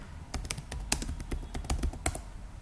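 Keys on a computer keyboard typed in a quick, uneven burst of crisp clicks while a terminal command is entered, close and fairly quiet with no talk.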